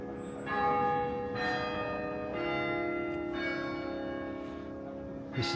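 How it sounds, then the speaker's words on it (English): Church bells toll at the old Coventry Cathedral, a slow series of resonant strikes ringing out roughly every second, moderately distant and heard alone over outdoor ambience. "There's the bells tolling."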